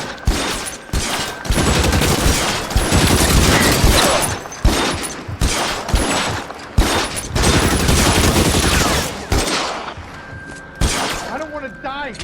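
Dense gunfire erupts in a GTA roleplay shootout, with rapid bursts and volleys, crashes and thuds, loud and continuous beneath shouted voices.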